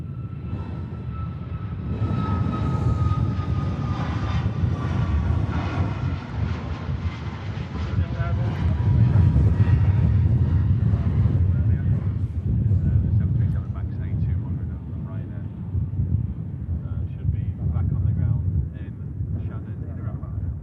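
A TUI Dreamliner airliner taxis out at Manchester Airport, its engines giving a steady broad roar with a brief whine that holds at the same level for about twenty seconds, heard under ongoing commentary.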